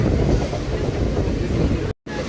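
A Janshatabdi Express train arriving at Kurla station gives a loud, steady rumble of wheels and wind, with a momentary dropout near the end.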